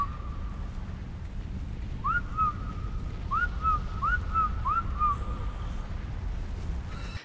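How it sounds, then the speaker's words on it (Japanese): A whistled tune from the video game Ark Survival Evolved, a short run of five or six rising whistle notes at a steady pace over a low background rumble, moderately loud. "悲しい、この口笛。"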